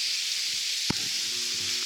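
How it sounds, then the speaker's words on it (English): Meat, vegetables and minced garlic sizzle in a pan for cowboy beans, a steady bright hiss of frying with a brief clatter partway through and faint low tones underneath. "What we'll do is we'll cook up this meat and these vegetables"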